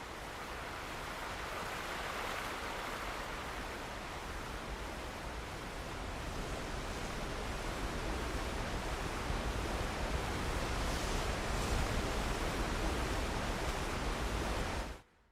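Rushing river water in the video game Alan Wake, a steady broadband wash that holds loud and even for about fifteen seconds before cutting off abruptly, with no voices over it.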